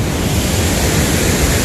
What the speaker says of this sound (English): That's at least a 20-foot waterfall right there.